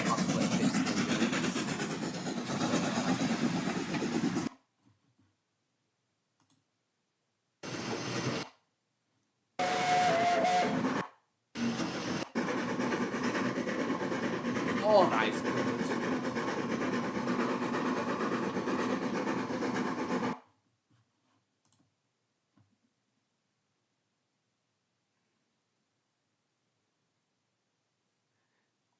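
A Hunslet Fitzwilliam steam locomotive rumbles steadily in loud stretches broken by abrupt silent gaps, with a faint whistle-like tone, then quiet; a voice briefly speaks.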